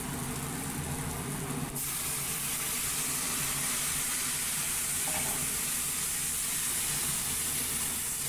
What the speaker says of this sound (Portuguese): agora eu vou acrescentar o suco do caju para começar a cozinhar esse macarrão